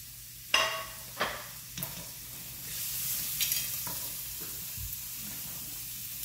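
Basil, green onion, rice paddy herb and long coriander sizzle in a pan, with a few sharp scraping stir strokes early on and a steady low frying hiss underneath.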